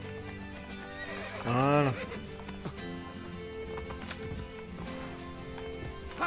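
Galloping horses in Assassin's Creed Brotherhood, with hoofbeats clip-clopping under game music and a loud neigh near the start, while someone speaks French over the game sound.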